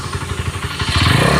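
A motorcycle engine revs in neutral with the rear wheel spinning fast, a loud, close, steady mechanical drone that rises in pitch and intensity partway through, with light clatter over the running engine.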